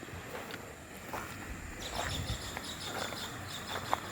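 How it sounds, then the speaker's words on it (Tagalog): A shallow stream washes softly and steadily while small birds chirp repeatedly in the background, all quiet and ambient. "wala akong maririnig dito hindi yung tubig tsaka yung mga ibon"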